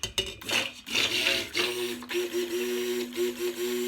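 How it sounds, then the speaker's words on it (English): Stick blender whirring through lye solution and oils while mixing soap batter to emulsion, a close steady motor whine with shifting pitch and brief dips as the blade moves, no talk. "I'm going to give this a little bit of a stick blend to get it to emulsion"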